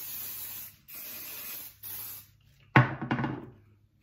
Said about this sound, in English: It's like it's spraying upwards.